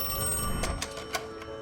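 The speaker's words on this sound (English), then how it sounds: "Then his phone rang again." A mobile phone rings with a steady electronic tone, several repeated bursts over a constant hum, close and fairly loud.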